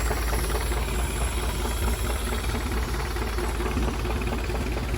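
An overhauled Graymarine 620 inboard marine engine, bound for a 1950s Lyman Islander, idles steadily at low rpm. It makes a dense, continuous close-up rumble and hiss with no other sounds.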